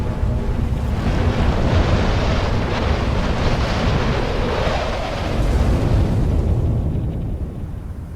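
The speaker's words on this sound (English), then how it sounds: "So windy." Storm wind in the Dark Souls 3 video game during the Nameless King boss fight, a loud continuous roaring gust that surges and holds steady throughout before easing slightly at the end, with no speech.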